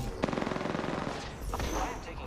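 Rapid automatic gunfire bursts in a multiplayer video game, loud and close, with a rattling stream of shots followed by scattered fire and faint voices underneath.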